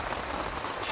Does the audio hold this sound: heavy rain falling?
yes